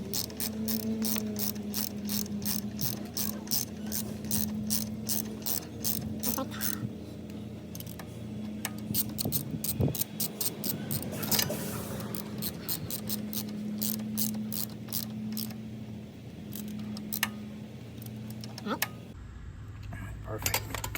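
A ratchet clicks in fast repeated bursts while tightening floorboard bolts on a BMW R18 motorcycle, close and crisp, with short pauses between runs of clicks.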